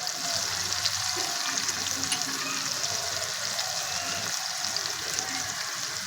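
Spices and tomato-chili paste fry in oil with a steady, close crackling sizzle that holds evenly throughout, with faint quiet sounds beneath it.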